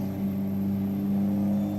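A heavy vehicle's engine in Farming Simulator 19 holds a steady, close, loud drone with a strong low hum throughout, without voices.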